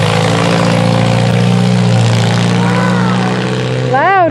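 A loud car engine runs just before the car crashes into an RV, producing a constant heavy drone with a brief rising, wavering whine near the end.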